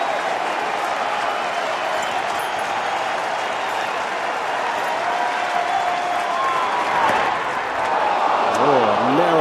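A baseball stadium crowd roars and cheers in anticipation of a strikeout, with steady dense noise throughout and a commentator talking over it.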